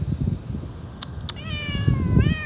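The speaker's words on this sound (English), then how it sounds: "She is the nicest cat I've ever met." A cat lets out a drawn-out, wavering meow at close range, followed by a second rising cry, over soft rustling and handling noise with no talking.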